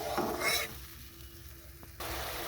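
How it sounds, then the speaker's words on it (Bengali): Tomato fish curry gravy bubbling in a pan, a close, soft sizzle and simmer that drops briefly quieter in the middle before swelling back up, with no talking. "এখানে ঝোলটা খুব ভালো মতো ফুটে গেছে"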